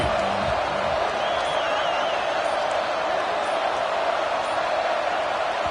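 A packed stadium crowd at an American football game roars loudly and steadily as a dense, continuous wash of noise with no breaks.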